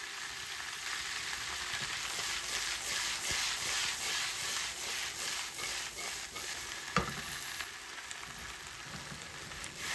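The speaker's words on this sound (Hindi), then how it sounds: "भिंडियों को हमने हल्की आंच पे फ्राई करते जाना है" Okra frying in oil on low heat with a little salt, a continuous crackling sizzle under repeated scraping and shuffling strokes of a spatula, one sharper knock near the end.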